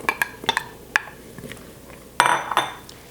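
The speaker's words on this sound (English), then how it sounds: "we're going to add all of the core straight in" A cauliflower core drops into an Instant Pot's inner pot with bright metallic clinks and clatter. A louder rattling burst comes near the end, all close and with no voices.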